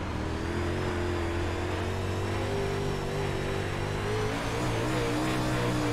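Onboard engine of a UMP modified dirt race car at Williams Grove Speedway in a racing game, a loud, steady droning roar held through the whole lap with slight rises and dips in pitch as the throttle shifts, and no talking.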